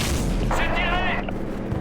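A cannon fires at a target in Modern Warfare, a heavy boom with rumbling low end over continuous game noise, plus a brief whining tone, loud and close, with speech nearby.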